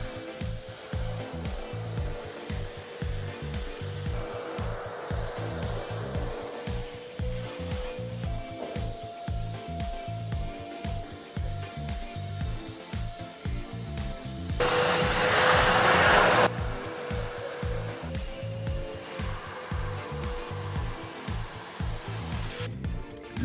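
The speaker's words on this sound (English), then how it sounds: "This vacuum machine expels a mix of water and soap and then sucks all the dirty water." A carpet extractor vacuum sucking dirty soapy water from a car carpet: a steady, loud motorized whine with a broad rushing hiss, running continuously with a brief louder surge partway through.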